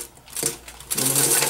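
A sewing machine runs a short back stitch on a zippered lining pocket, a close, loud mechanical whir that starts, pauses briefly, then runs steadily again.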